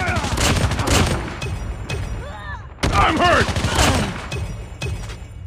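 Rapid bursts of gunfire from the mobile shooter game Call of Duty Mobile crackle loudly and repeatedly, layered under radio-style voice callouts and game effects.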